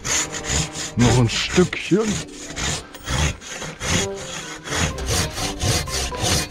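Rhythmic rasping strokes of a hand saw biting through wood, close and loud, with a brief spoken remark partway through.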